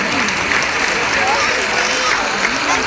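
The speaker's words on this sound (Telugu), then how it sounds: "ఒక్కసారి చప్పట్లు కొట్టగలరు ప్లీజ్" An audience at a Ganapati Navaratri comedy show claps in a dense, continuous burst of applause that holds steady and fairly loud for the whole moment.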